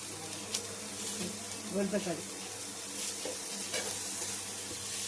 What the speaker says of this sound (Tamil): கொஞ்சம் எண்ணெய் ஊற்றி நல்லா எண்ணெய் ஃப்ரை பண்ணிட்டு